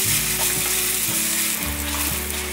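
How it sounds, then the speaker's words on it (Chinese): Strips of tofu skin frying in a little hot oil in a pan give a loud, continuous close sizzle with faint stirring scrapes and no talk. "把百叶稍微煎成金黄色"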